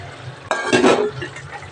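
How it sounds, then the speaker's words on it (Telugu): Gram flour and a little water stirred into a potato and pea curry in a pot: after a quiet start comes a sudden splash, then a brief burst of scraping and mixing that fades away. "ఇప్పుడు దీంట్లో మనం 2 టీ స్పూను శనగపిండి తీసి పెట్టిన, అది కొంచెం వాటర్ వేసి కలిపి గ్రేవీ రావాలి కదా"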